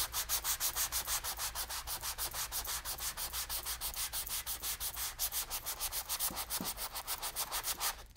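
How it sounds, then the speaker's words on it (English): Sandpaper rubs over a coat of dried gesso in a steady, rapid back-and-forth rhythm, loud and close throughout with no talking. "So you'll just want to take some sandpaper to it."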